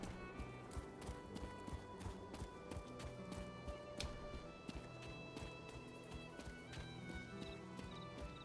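Guar mount in Elder Scrolls Online trotting along a road, a steady rhythmic clip-clop of footfalls with bright tapping clicks, continuous and fairly close under faint game ambience.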